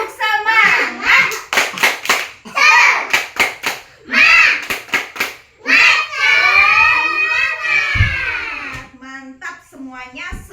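Young children in an early-childhood classroom clap a quick patterned rhythm while chanting together loudly at close range, the claps and voices interleaved in short bursts with an adult voice joining.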